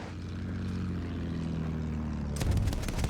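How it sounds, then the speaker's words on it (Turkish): A propeller fighter plane's engine drones steadily in Battlefield 1 gameplay, a loud continuous hum that gives way to sharp bursts of gunfire near the end. "Hemen şöyle bu uçağımızı alalım"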